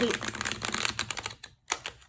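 Thick, bendy tarot cards are rifle shuffled close up, giving a rapid, crisp run of riffling flicks that breaks into a brief pause before a short final flutter.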